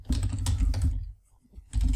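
Fast clattering keystrokes on a computer keyboard, close and fairly loud, with a short pause before one more burst of typing.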